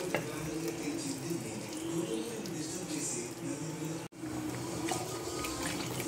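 Ground paneer butter masala gravy tipped into melted butter and ghee in a pan, giving a soft, continuous sizzle with light stirring and scraping, broken by a brief pause midway.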